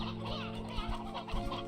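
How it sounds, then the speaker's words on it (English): Chickens clucking in the video game Slime Rancher 2, a run of short loud clucks and squawks over a steady synthetic game tone, close and without speech. "Oh my gosh, these chickens are very loud."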